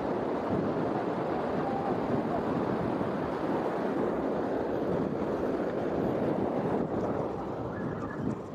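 Surf at Riacho Doce beach on the northern coast of Maceió, Alagoas, gives a steady moderate wash of waves with some wind, heard from the shore during fishing.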